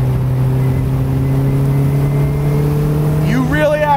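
The Morgan Plus 4 sports car drives along at a steady engine hum that holds even and loud, with a rising tonal whine near the end.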